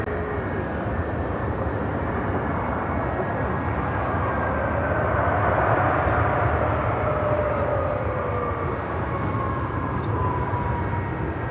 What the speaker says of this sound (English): American Airlines Flight 160, 787-9 Dreamliner heading to Athens, Greece, heading to